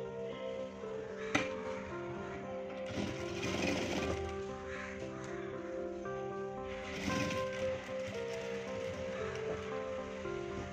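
A sewing machine stitches pieces of a cigarette pant, heard as faint, intermittent whirring bursts close by with soft fabric rustling between runs.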